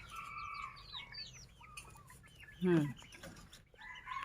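Bantam chickens cluck and chirp nearby in a pen, with one louder, brief squawk in the middle and a voice talking over them.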